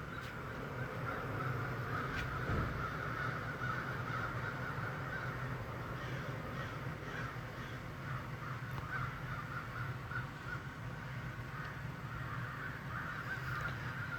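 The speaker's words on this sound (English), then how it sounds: "All the birds are happy in the snow." Crows caw repeatedly outdoors during a snow storm, spread across a steady background of wind and snowy ambience at moderate distance, with no talking.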